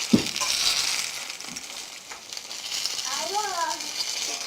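An apple roll made with Dr. Sebi approved ingredients fries in a pan, giving a soft steady sizzle with a few light clinks, while a voice talks briefly over it.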